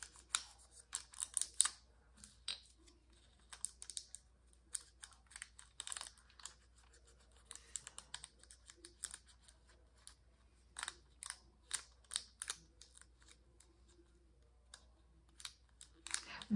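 Scissors snipping through foil-backed paper while trimming press-on nails, a quiet run of crisp, irregular close-up cuts scattered across the whole stretch with short pauses between bursts.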